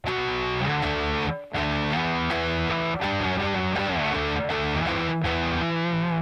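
Electric guitar through a Boss Katana MK2 amp's Fat Distortion, playing a tone, sustained buzzy chords and notes changing every second or so, with brief gaps between phrases.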